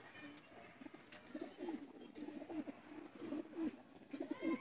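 Custom racing pigeon (parwazi kabootar) in Sialkot cooing in repeated soft low throaty phrases, fairly close, over faint background noise.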